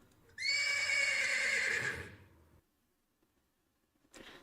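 A horse in the video game Save the Villainess gives a loud, drawn-out whinny lasting about two seconds, followed by near silence and then a brief soft sound at the end.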